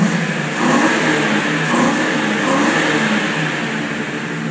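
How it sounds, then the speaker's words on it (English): A 2000 Ford Crown Victoria sedan's engine revs steadily under acceleration, a loud, close, continuous mid-pitched drone with no talking. "let me get on the acceleration so you can hear that as well"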